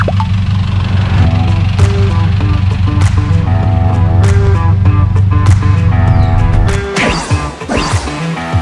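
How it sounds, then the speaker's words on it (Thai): Modified turbo diesel pickup truck built for orchard duty, its engine rumbling steadily nearby under background music, then a clattering surge as the truck rolls in near the end. "วันนี้ผมนัดรถละหนึ่งคันมาแล้ว มาแล้ว มาแล้ว"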